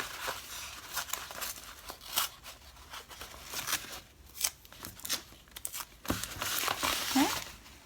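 Embroidery stabilizer and tape being peeled and torn off an in-the-hoop embroidery piece after removal from the hoop: close crinkling, rustling and short ripping bursts in an irregular rhythm, with faint voice sounds in the background.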